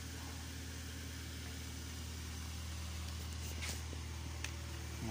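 Jaguar XJ8 V8 engine idling very quietly and smoothly, a steady low hum with slight mid-range whir and a brief faint click near the end.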